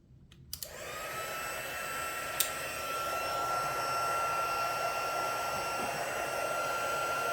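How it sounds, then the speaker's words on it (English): A craft heat tool for embossing switches on with a click and then blows a loud, steady whirring roar close by, holding constant with a faint high whine throughout. "I'm going to turn on my heat tool so it heats up."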